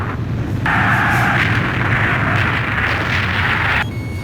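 An explosion in the Ace Combat 5 video game as a shot hits its target: a loud, sustained roar with a ringing, tonal layer that lasts about three seconds, then cuts off abruptly.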